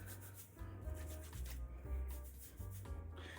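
Fingertips rubbing hair grease into the scalp, a soft close-up rhythmic scrubbing and rustling in short strokes, fairly quiet with no voice.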